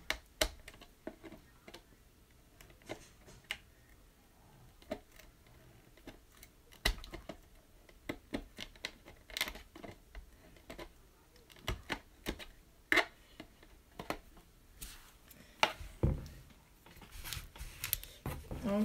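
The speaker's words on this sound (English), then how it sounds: "I'm going to use my funky scissors." Scissors snip through a plastic Easter basket in a run of sharp, irregular clicks and crunches, close and fairly quiet, with brief pauses between cuts.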